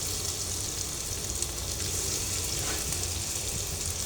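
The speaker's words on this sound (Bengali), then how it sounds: "এখন সেকেন্ড ব্যাচটা ভেজে নেব। তেলটা খুব গরম আছে" Semolina and yogurt pakoras frying in very hot oil, an even, crackling sizzle held close and constant for several seconds without any speech.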